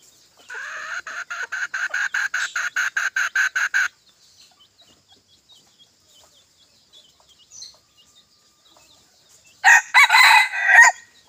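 Rooster crowing loudly and close in one long pulsing call, followed by quiet, then a second short burst of crowing near the end.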